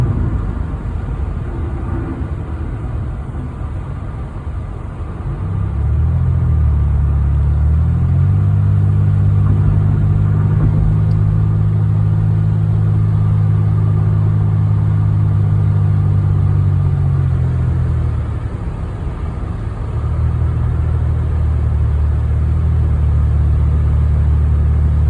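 An older Chevy Malibu cruises along the road, its engine a steady low hum inside the cabin that swells into a louder, sustained drone, eases off briefly, then picks up again, with no talking.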